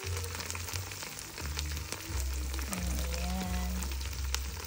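Garlic and ginger fry in a pan for beef broccoli with bell pepper, giving a steady, close sizzle and crackle with faint stirring clatter beneath a low background hum.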